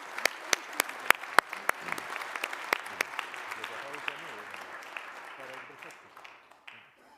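A sports awards ceremony crowd in Akureyri applauds, starting with several sharp, distinct claps over a dense patter that gradually thins and fades out, with some murmuring voices underneath.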